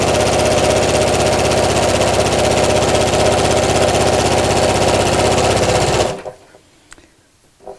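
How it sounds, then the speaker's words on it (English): A sewing machine runs continuously at steady speed stitching a seam close to the raw edge of fabric for a drawstring beach bag, loud and near, then stops abruptly, leaving quiet room sound with a faint click. "So I'm sewing about 1/8 inch from the raw edge all the way around."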